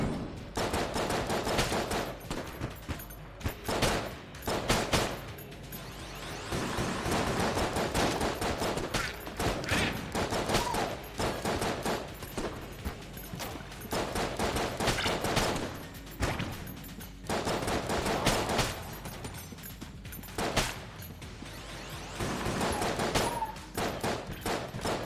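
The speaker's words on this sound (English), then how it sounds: "I think the judge is one of my favorite pistols in this game" Rapid bursts of pistol fire from the Judge in the video game Enter the Gungeon, loud and dense, repeating in clustered volleys with brief gaps throughout.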